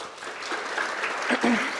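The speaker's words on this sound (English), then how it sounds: "If you can give them a round of applause" Applause at a spring senior recognition ceremony, a continuous round of clapping from the gathered audience with a few voices mixed in.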